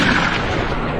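A loud explosion in an Indian action film blasts into a squad of police officers, a dense roaring burst that fills the whole moment and slowly tails off.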